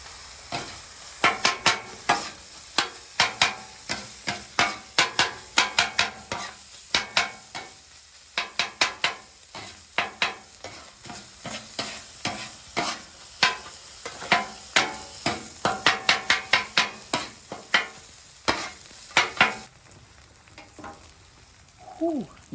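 A spatula chops meat and American cheese on a hot griddle in a fast, loud run of sharp metallic taps over a continuous sizzle, close up and without talking.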